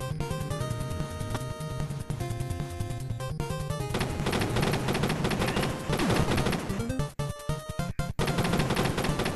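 Dense, continuous bursts of gunfire in the video game Meta Contra over a loud musical backdrop, rapid and sustained with a few brief drops near the end.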